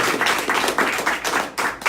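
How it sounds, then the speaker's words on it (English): A real estate team meeting gives a round of applause for Kathy, with a close, lively patter of many hands clapping briefly and loudly. "one more round of applause just for Kathy"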